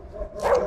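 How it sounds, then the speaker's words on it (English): A single short dog bark sounds at moderate distance, brief and fairly soft against quiet outdoor background on a horse property. "His dog's barking again."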